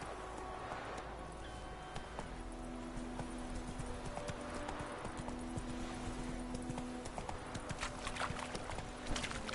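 Roach the horse gallops in The Witcher, hooves pounding in a fast, steady clip-clop close by for the whole stretch, over a low game-world ambience with soft tonal hums and no speech.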